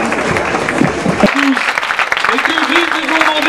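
Applause rises from the audience at a gastronomy awards gala in Mougins to greet the evening's patroness, clapping mixed with crowd noise and voices, with a presenter speaking over part of it.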